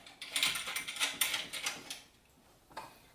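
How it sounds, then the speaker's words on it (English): A lock nut is threaded onto a nipple on a 4-inch electrical box at a generator transfer switch panel knockout, giving quick close metallic ratcheting clicks and scrapes that fade out, followed by one last small click. "Put your lock nut on."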